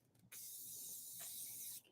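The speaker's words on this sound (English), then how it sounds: "We're gonna take our Morphe setting spray," A Morphe continuous mist setting spray releases a single sustained, even hiss that lasts about one and a half seconds, loud and close, in a quiet room.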